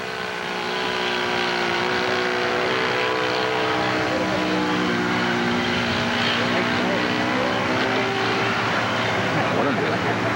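A model airplane powered by an OS four-stroke engine drones steadily overhead on its first flight of the year, a loud, continuous buzzing hum with a wavering pitch, carrying on under the roar without talk.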